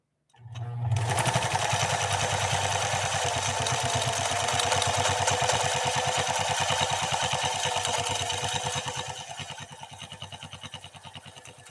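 A Pfaff 332 sewing machine running an overcast stitch hums and clatters in a fast, even rhythm close up, starting abruptly and tapering slightly toward the end.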